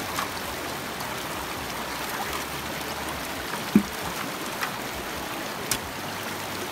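Steady broadband rush of East Fork San Gabriel River water washing through a gold sluice, continuous and even, with a few sharp knocks of rocks or gravel striking it and no talking.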